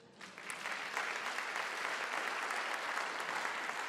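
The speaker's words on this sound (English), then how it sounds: "Can we clap for the Lord?" A church congregation claps for the Lord during a sermon, sustained full applause that swells quickly at the start and holds steady throughout.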